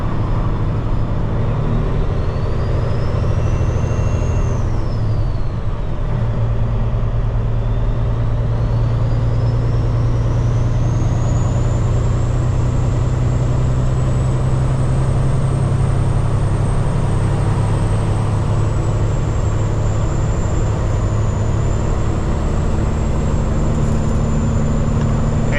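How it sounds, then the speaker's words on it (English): Steady highway traffic roars close by, heavy truck engines droning continuously with a rising whine sweeping overhead, loud and unbroken with no talk. "all this traffic going that way"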